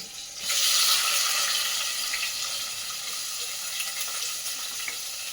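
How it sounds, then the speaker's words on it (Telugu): Onions frying in a hot pan for an aloo beans curry, a loud hiss that flares at the start and then settles into a steady close-up sizzle, no talking. "దీంట్లోకి ఉల్లిపాయలు వేసుకోండి."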